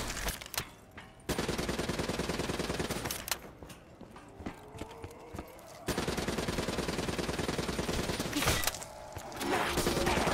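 Rapid automatic gunfire in a video game, loud close bursts separated by short pauses, with clicking mechanical sounds between volleys and no talk.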